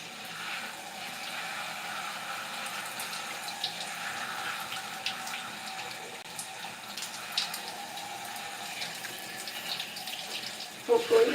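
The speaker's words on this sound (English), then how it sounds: "I can see that I actually need to rinse the whole strand" Steady running water from a tap while curly hair is rinsed section by section, a soft continuous hiss that holds evenly throughout with a slight bump near the end.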